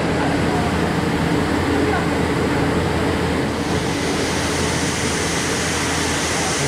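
Rice grains pour down through a grain sorting machine inside a country elevator rice facility, a dense continuous hiss and rush of falling grain with machinery hum, steady and loud throughout, with a voice faintly present.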